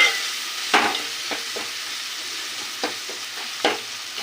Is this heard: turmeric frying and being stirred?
yes